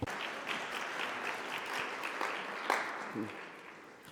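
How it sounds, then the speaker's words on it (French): An audience at an ILO conference on social protection and development goals applauds a speaker with steady, even clapping from a sizeable room, heard somewhat distant and moderately quiet throughout. "Nous l'applaudissons."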